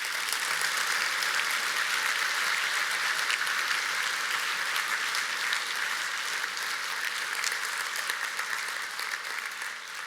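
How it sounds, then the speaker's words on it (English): Sustained audience applause at a corporate technology summit, dense and steady clapping from a large crowd for about ten seconds, fairly loud and unbroken, with no talking. "And to all of them, a round of applause,"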